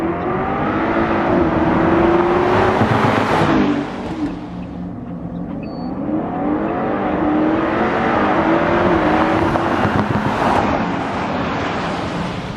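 A BMW X5 and a BMW X6 accelerate hard side by side, their engines roaring loud and close with rising, sweeping tones, easing briefly in the middle before building again.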